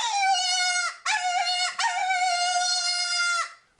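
A reedy wailing game call imitating a distressed animal such as a rabbit, given in three drawn-out cries with short breaks, close and fairly loud.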